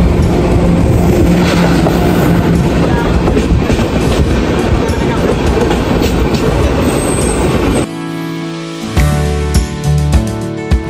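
Loud, steady rumble and clatter of a passenger train running from Kolkata to Agra, heard from inside a carriage, shifting near the end to a quieter, tonal hum with rhythmic clicks.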